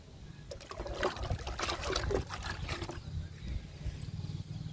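Liquid fertilizer trickles and splashes from a container onto the soil of a potted rose plant outdoors, a steady dribbling pour lasting a few seconds before easing into quieter background.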